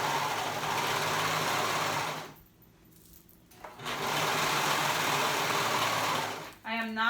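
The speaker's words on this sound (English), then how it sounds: "And now I'm going to go ahead and sew that crotch area together." Sewing machine stitching the crotch seam of a cotton-style romper cover-up, a steady loud whirring run that pauses briefly mid-clip then resumes, with a voice speaking over it.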